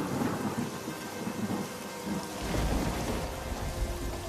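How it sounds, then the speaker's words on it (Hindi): Steady heavy rain pours down during a thunderstorm, with a deep rumble of thunder rolling in about halfway through and continuing under the downpour. "और बारिश शुरू हो गई।"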